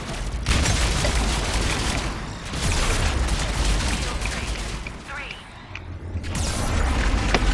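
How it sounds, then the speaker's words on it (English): Grenade explosions in Mass Effect 3 combat, a run of loud overlapping blasts and rumbling booms with mechanical clatter, dense and close, easing briefly near the end before flaring again. "Grenades!"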